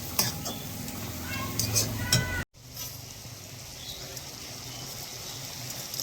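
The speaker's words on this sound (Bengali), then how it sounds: "চিনি দিয়ে দিলাম, দিয়ে এটাকে এখন ভাজবো" Spice masala with capsicum and sugar is stirred and fried in a pan, giving a steady soft sizzle and scraping close by, with a brief dropout partway through.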